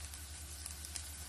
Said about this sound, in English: Right, so the onions are frying off nicely.